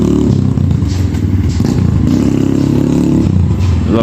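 A Kayo T2 motorcycle runs loud and close, its engine rumbling steadily with rattling clatter and small shifts in pitch as it rides.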